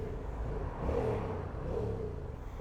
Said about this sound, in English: it's got the standard exhaust on this bike, and it's really rather quiet.